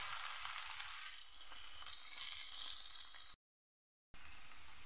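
Vegetables for fried rice sauté in a hot pan, a loud steady close sizzle that cuts out briefly near the end before resuming.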